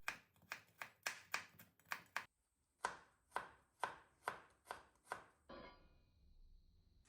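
A knife finely minces a garlic clove on a board in quick rhythmic strokes, pauses briefly, then resumes with slower even chops before a soft scraping.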